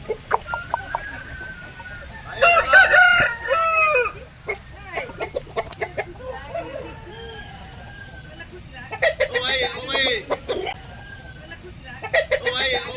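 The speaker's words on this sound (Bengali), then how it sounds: "এটা হিরে লাল মুরগি আছে" Chickens cluck repeatedly and a rooster crows in several loud bursts, with bird calls scattered between them, at a village poultry market.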